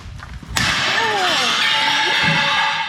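A glass ball breaks with one loud, sharp crash, and a bright, ringing shatter of glass lingers and scatters afterward while voices talk faintly underneath.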